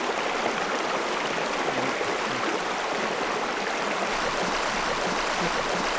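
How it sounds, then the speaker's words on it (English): A significant stream on Mt Pirongia flows in a constant broad rush of water, steady and moderately loud with a bubbling, gurgling texture throughout. "this is a significant stream"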